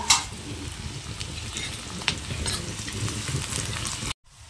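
Onions, green chilies and garlic cloves fry for a tadka in a home kitchen while an Uttarakhandi pahadi lunch is made, a close, steady crackling hiss with a few sharper pops, ending abruptly.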